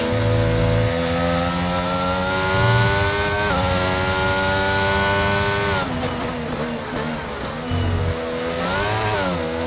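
F1 race cars from the F1 22 video game crossing the finish line at the British Grand Prix, with loud, continuous high-revving engine whine that dips and climbs in pitch as cars pass and shift gears.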